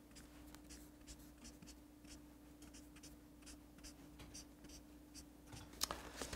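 A highlighter pen strokes across paper in a steady series of soft, scratchy swipes, close and quiet over a low background hum, ending with a slightly sharper tap.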